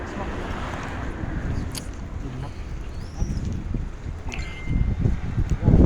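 Wind blows outdoors in Italy, buffeting the microphone with a broad, gusty low roar that strengthens toward the end, while a person talks over it.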